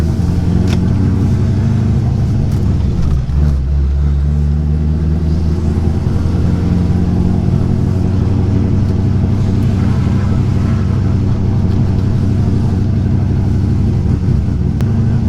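A Chevrolet C5 Corvette engine runs while warming up, held at raised revs, a loud, close, continuous deep rumble with steady throbbing and slight revving swells throughout, no talking.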